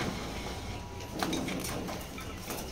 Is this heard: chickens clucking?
no